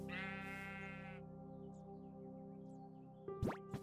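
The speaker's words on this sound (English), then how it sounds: "They do have baby sheep." A baby sheep bleats in the Minecraft video game, one short harmonic bleat at the start over a steady droning game backdrop, followed near the end by a brief louder thump.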